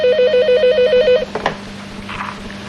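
A telephone rings with a warbling electronic trill lasting about a second, then cuts off, leaving faint room noise.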